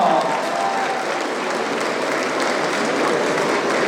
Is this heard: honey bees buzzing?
no